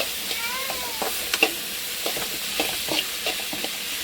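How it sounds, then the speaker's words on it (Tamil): Tomatoes sautéing in a pan for squid gravy, a steady frying hiss broken by repeated spatula scrapes and clinks, close by and without speech. "தக்காளியுமே நல்லா வதங்கட்டும்"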